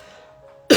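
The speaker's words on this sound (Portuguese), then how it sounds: "Tô com uma tossinha já faz um tempinho." A single sharp, close cough from an adult at a home Christian gospel gathering bursts out at the very end, after a near-silent moment with a faint hum.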